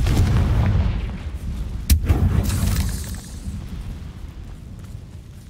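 A Confringo blasting spell goes off in a video game, a loud close explosive boom with a sharp crack near the middle, followed by a rumbling decay that fades out.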